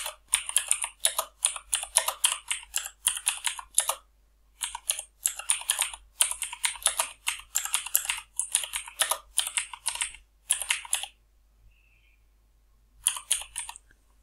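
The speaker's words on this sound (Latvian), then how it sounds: "Mums ir jāierakst vairāki vārdi." Computer keyboard typing in bursts of rapid clicks, steady and close, with short pauses between runs and a longer gap near the end before a final flurry, entering words into an online design tool's AI image generator.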